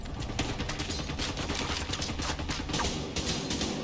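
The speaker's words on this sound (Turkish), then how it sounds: "Ben niye oraya sıkamıyorum da farklı farklı yerlere sıkıyorum abi?" Sustained automatic gunfire in The Division 2, a dense, loud rattle of rapid shots running through the whole stretch without a break.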